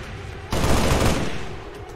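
Gunfire in the video game XCOM 2 (War of the Chosen, Long War 2 mod): a sudden loud burst of rapid shots that rings out for about a second and then tails off, with no talking.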